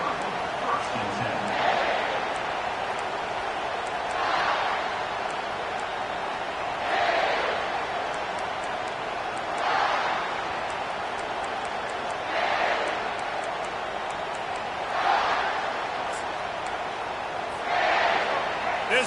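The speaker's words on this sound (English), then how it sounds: "This crowd trying to make life miserable for this offense." A college football video game stadium crowd roars in rhythmic swells about every few seconds, a steady chant-like surge that rises and falls beneath ongoing commentary.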